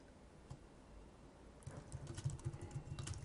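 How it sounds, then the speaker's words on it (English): Light clicking on a computer keyboard as a course name is entered into a learning management system, quiet and sparse at first, then a quicker run of soft taps near the end. "I'm just going to go and type in Safety Training 2010"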